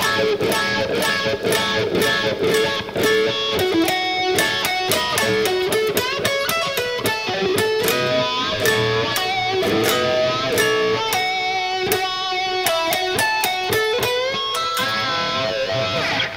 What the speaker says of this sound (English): So the entire wah section so far, it's kind of confusing, but it sounds like this.